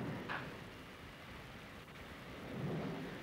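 Heavy rain pours steadily with low rumbling thunder rolling underneath, a constant wash of noise that swells slightly toward the end, no voices.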